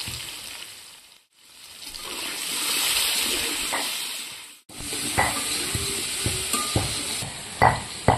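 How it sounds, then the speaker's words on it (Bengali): Cut potatoes fry in oil in a wok in a home kitchen, a steady hiss of sizzling broken by stirring scrapes and clicks, close and loud with no talking. "তো আলু ভাজা হয়ে গেছে।"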